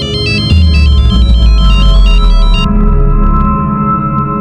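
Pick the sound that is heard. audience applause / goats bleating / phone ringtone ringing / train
phone ringtone ringing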